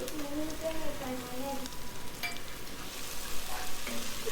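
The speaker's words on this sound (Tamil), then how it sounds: "இந்த மாதிரி நல்லா வதக்கி விட்டாச்சு." Mint and coriander leaves sautéing in ghee for mushroom biryani give a soft, steady sizzle with occasional stirring, accompanied by a faint wavering tone early on.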